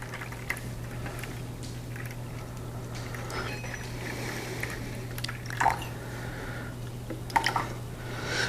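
Tap water poured into a mixing bowl for sandwich-loaf bread dough, a soft splashing trickle with a few louder drips near the end over a steady background hum.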